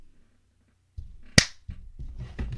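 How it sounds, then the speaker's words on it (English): A single sharp hand clap cracks out once, close and loud, after a brief quiet pause, and talking follows right after it. "Clap again."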